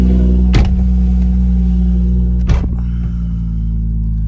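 Close and loud, a car engine holds a steady, heavy droning rumble, with two sharp clicks cutting through it about two seconds apart.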